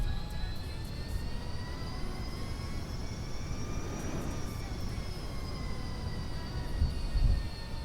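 A plane in Kerbal Space Program building up for takeoff with a steady engine roar and a rising and falling whine, moderately loud and continuous.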